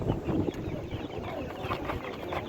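Chickens cluck and murmur at an outdoor poultry market, a low, busy jumble of fowl sounds with a few brief calls standing out, mid-distance and steady throughout.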